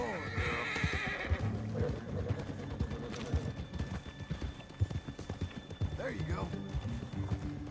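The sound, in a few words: horse neighing and hooves, Red Dead Redemption 2 video game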